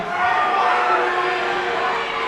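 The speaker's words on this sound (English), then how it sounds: "is this crowd loud here tonight in West Newton, Pennsylvania?" A loud crowd at a wrestling show in West Newton, Pennsylvania roars and cheers steadily throughout, a dense wash of voices with no gaps.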